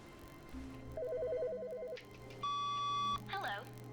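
A phone in The Stanley Parable rings in a steady warbling electronic trill of repeated pulses, then a loud sustained tone, with faint room sound behind it.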